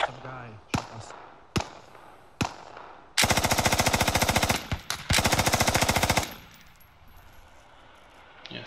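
Machine gun fire in the military shooter video game Squad: a few single sharp shots, then two long, loud, rapid-fire bursts at close range, with talk around them.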